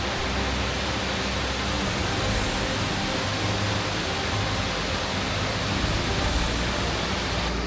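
Asia's largest waterfall in Guizhou roars as a dense, unbroken wash of falling water, loud and close with heavy spray, filling the air without any pause or variation.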